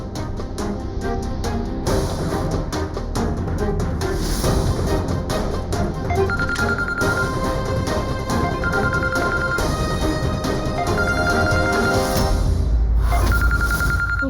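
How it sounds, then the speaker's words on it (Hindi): A telephone rings in a Hindi TV drama scene, its tone repeating at regular intervals over loud, busy background music. "मम्मा का फोन।"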